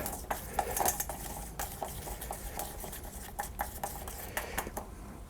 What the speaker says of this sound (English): Okay, stir, stir, stir, stir, stir. Get that mixed up.